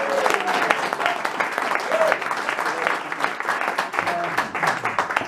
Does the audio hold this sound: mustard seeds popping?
no